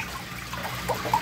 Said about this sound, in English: I built this little spacer so it's dripping a little bit more